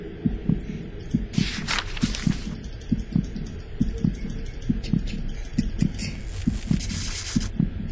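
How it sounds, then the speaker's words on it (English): A steady, throbbing heartbeat thumps in a horror video game, The House 2, its double beats repeating evenly and loudly over a dark hum, with bursts of eerie noise above it. "Is that my heartbeat?"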